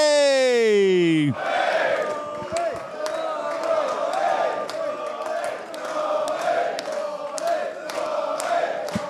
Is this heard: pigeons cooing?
no